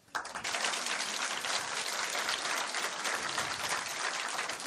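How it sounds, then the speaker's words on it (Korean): A studio audience at a Korean current-affairs talk broadcast breaks into sustained applause, a dense steady clatter of many hands after a sharp onset, with no voices over it. "지금 누구를 향해서 박수를 보내는 겁니까?"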